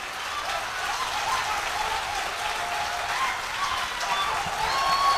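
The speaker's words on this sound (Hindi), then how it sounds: "आपके सम्मान में ताली बजाइए" An audience claps steadily at a motivational talk, a dense, even wash of applause that holds throughout at moderate loudness with no voices over it.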